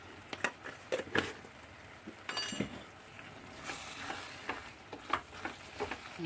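Masala with chili powder and onions for a sardine roast is stirred and fried in a pan. Quiet sizzling runs underneath, broken by scattered scrapes and clinks of the spoon.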